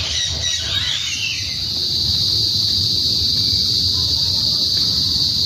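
Birds call noisily nearby in Quezon City, Philippines, a burst of chirps up front giving way to a steady high insect-like whine over low rumbling background.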